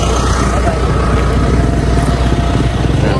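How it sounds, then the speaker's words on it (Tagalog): A motorcycle engine drones loudly and steadily close by, with rough low rumble throughout, as it passes on a road in Davao del Sur. "Ay, may motor."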